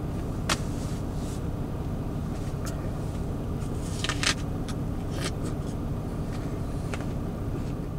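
A vehicle drives on along the road, heard from inside as a steady, loud engine and tyre rumble with a few faint clicks and rattles.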